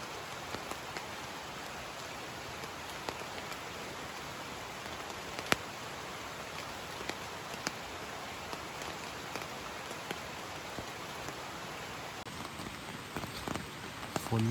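Steady rain falls outdoors during a squirrel hunt in the countryside. The patter is soft and continuous, with faint scattered drops and rustles, and no one talks.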